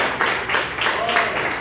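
Church congregation clapping along in rhythm during a worship service, steady group claps under a lively room wash.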